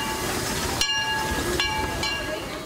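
A miniature railroad train runs along track in a 60-foot backyard, a continuous close rumble and hiss with clicks as the wheels cross rail joints.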